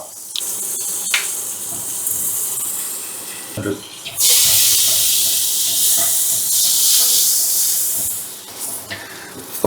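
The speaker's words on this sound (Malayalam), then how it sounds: "ഇത് ഞാനൊരു പാൻ അടുപ്പത്ത് വെച്ച് ചൂടായിരിക്കുന്നുണ്ട് കേട്ടോ അപ്പോൾ അതിലേക്ക് ആദ്യം ഒരു രണ്ട് ക്യൂബ് ബട്ടർ ഞാൻ ഇട്ട് കൊടുക്കണ്ടേ" Two cubes of butter dropped into a preheated pan give off a loud, steady hiss and sizzle that swells after a few seconds of quieter clatter and continues strongly to the end.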